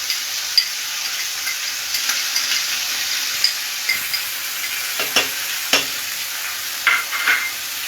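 Chopped tomatoes fry in a pan, with a steady bright sizzle throughout, punctuated by occasional clinks and taps of a utensil stirring, close and without talk.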